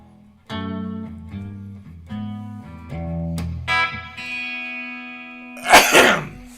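A single sharp sneeze bursts out near the end, loud and close, following a run of sustained piano chords.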